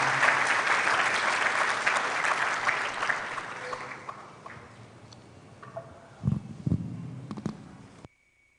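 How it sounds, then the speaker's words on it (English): Audience applause at a pharmacy white coat ceremony, a dense crowd clapping that fades over several seconds, then a few louder close thumps and claps before cutting off. "Let's welcome him with a round of applause."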